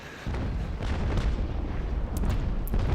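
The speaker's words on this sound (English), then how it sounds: "I think he took the full wrath of the Cervantes' broadside" Heavy cannon broadside from a sailing warship in the naval combat game Naval Action: a sustained, rumbling barrage of booming shots rolling together, loud and dense, with no talk over it.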